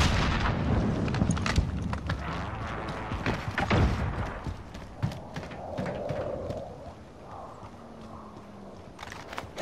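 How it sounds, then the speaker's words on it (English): Gunfire and an explosion in a shooter video game match: a cluster of sharp bangs and thuds up front, then quieter rumbling and scattered shots trailing off at moderate loudness. "Priming explosion."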